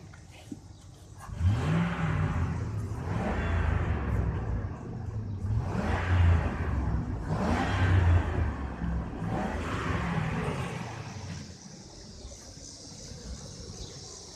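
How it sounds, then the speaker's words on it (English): A Ford F150 engine fitted with an AC bypass belt revs up in repeated bursts, each rise and fall of the throttle clearly audible and fairly close, settling back to idle near the end with no talking. "Let's give it a little gas, see if it stays on"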